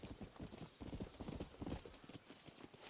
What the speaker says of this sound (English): we're going to call our horse